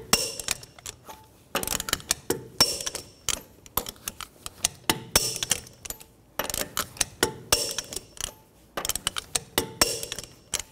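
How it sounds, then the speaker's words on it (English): Lug nuts on a Chevy Traverse wheel being torqued to 140 foot-pounds in a cross pattern, heard as repeated clusters of sharp metallic clicks and ratcheting snaps in close, steady bursts with short pauses between nuts. "Now I'm going to torque the lug nuts down to 140 foot-pounds in a cross pattern to tighten the wheel down evenly."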